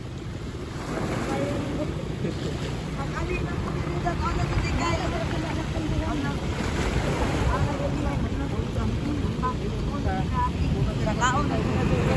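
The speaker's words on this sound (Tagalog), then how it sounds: "Look at the waves." Ocean waves surge continuously at Cape San Agustin, Davao Oriental, Philippines, under heavy wind rushing against the microphone, with faint voices in the background.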